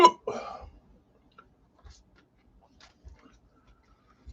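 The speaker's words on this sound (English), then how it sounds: "The hiccups come." Hiccups after eating a Paqui One Chip Challenge chip: a short burst of voice at the start, then several soft, low, isolated hiccup thumps spaced about a second apart in near silence.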